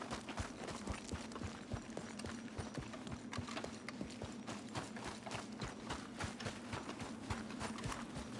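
Horse hooves clip-clopping in Red Dead Redemption 2, a fast, steady run of close, crisp hoof strikes over a continuous low rumble, with no talking.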